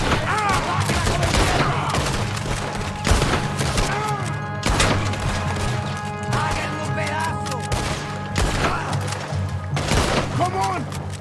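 Cannon blasts and bursts of gunfire in the video game Red Dead Redemption 2, repeated loud booms and crackling shots throughout, with game music and shouting characters talking over the battle.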